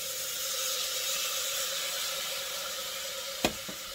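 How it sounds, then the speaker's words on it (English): Chicken broth hitting a hot pan after browning, a steady bright sizzle and hiss running the whole time at moderate level, with a brief sharp clink near the end. "throw in the 2 cups of broth"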